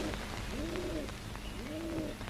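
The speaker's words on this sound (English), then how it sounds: "The dove." A dove in Rajasthan cooing twice, each a smooth rising-then-falling call, fairly soft over a steady background hiss.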